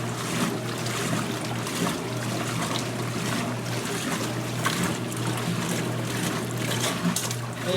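A washing machine tub churns through a low-water rinse cycle, giving a steady sloshing, swishing wash of water over a constant motor hum, close and continuous with no speech.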